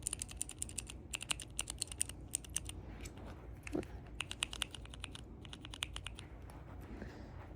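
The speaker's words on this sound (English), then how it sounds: "We've got some clicky keys." A clicking keyboard-key fidget toy gives a continuous run of crisp, close key clicks in quick irregular clusters over a steady low background hum, with no voices.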